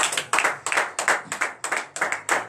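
A church congregation at a morning prayer service claps in rhythmic unison in acclamation to God, about eight strong, evenly spaced claps with a bright, close, fairly loud sound.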